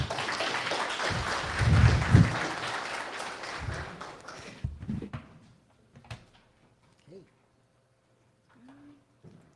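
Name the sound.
audience applause for a speaker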